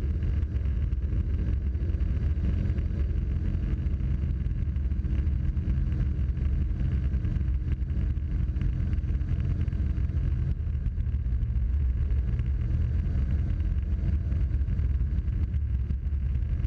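A Cessna Cardinal light aircraft climbs out after takeoff from Charlotte with its gear and flaps coming up, giving a constant loud droning engine roar and wind rush that holds steady throughout.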